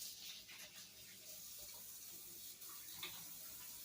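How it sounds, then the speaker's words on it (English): Water runs steadily from a sink tap during handwashing, a continuous broadband hiss with small splashy variations, fairly faint and close, with no talk over it. "Wash my hands right quick."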